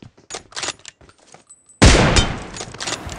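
A sniper rifle shot rings out in BGMI, one sudden loud crack with a long booming tail, following a stretch of quieter, scattered clicks and smaller shots.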